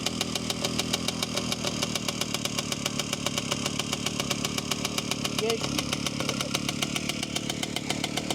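A small moped engine idles close by with a fast, even putter that runs steadily throughout, with no voices over it.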